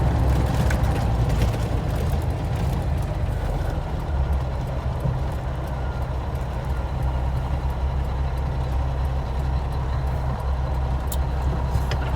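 Kenworth truck diesel engine at hot idle with low oil pressure, a steady, loud low rumble that holds evenly throughout with no talking.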